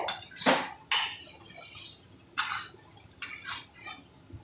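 Spice paste being stirred and sautéed in a pan for a pumpkin dish with sesame and poppy seeds: four separate scraping, clattering strokes of a spoon against the pan, with quiet gaps between them.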